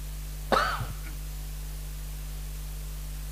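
One short, sharp cough from a man giving a lecture, heard once near the microphone over a constant low electrical hum, followed by quiet.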